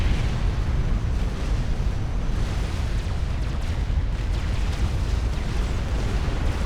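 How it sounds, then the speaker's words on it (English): Ravager artillery in the video game Supreme Commander fires on friendly power plants, a dense, continuous roar of overlapping explosions and booming blasts with no clear gaps. "Ravagers shooting friendly power plants"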